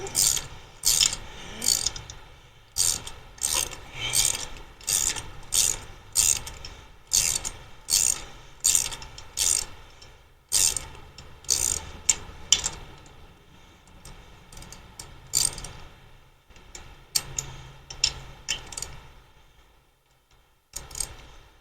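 A hand ratchet tightens bolts on a Chevy Vortec 5.7 350 engine during a rebuild, with repeated bursts of close, crisp clicking strokes in a steady rhythm, pausing briefly between sets.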